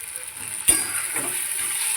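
Ginger-garlic paste and masala sizzling in a pan with fried onion and tomato, a steady soft hiss with a single clink of a utensil near the start and faint stirring scrapes.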